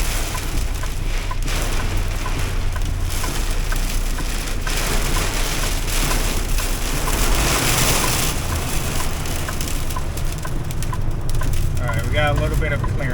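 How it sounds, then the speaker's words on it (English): A heavy storm of rain and hail hammering steadily and loudly nearby, a dense constant roar throughout, with a person speaking over it and a bird call near the end. "I've never seen a storm like this."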